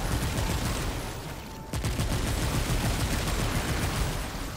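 Sustained gunfire in the sci-fi action game Remnant II, a dense rapid barrage that runs loud and steady almost throughout, with a brief dip partway before the shooting picks back up at full intensity.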